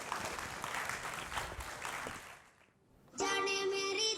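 Audience clapping welcomes children onto a stage at an evening school event, steady broadband applause for about two and a half seconds that fades out before music begins.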